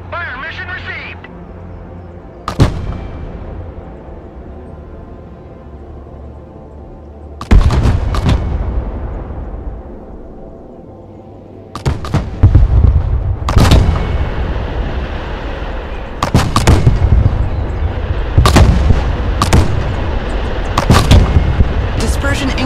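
Artillery fire mission in the video game Broken Arrow, with heavy booming shots that ring out in separate blasts and then in quicker clusters, each one loud and followed by a rumbling tail, while radio-style voices speak between them.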